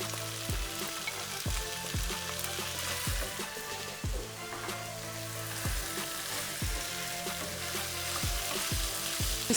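Potatoes and carrots sizzling and frying in a pot, a soft steady hiss punctuated by regular rhythmic thumps of a spoon stirring against the pot, fairly quiet and without voices.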